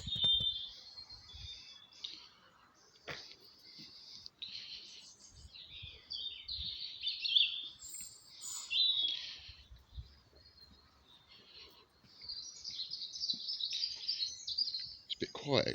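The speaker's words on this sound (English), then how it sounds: "Thought we'd listen to the birds singing." Birds sing in a Cornish village in the UK at about seven in the early morning in February: high chirps and warbled phrases come and go, quiet and a little distant, with faint footsteps and rustling between.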